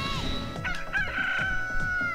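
Chickens cluck and a rooster crows repeatedly in the Billy Hatcher video game, the calls fairly close and clear with a continuous game background underneath.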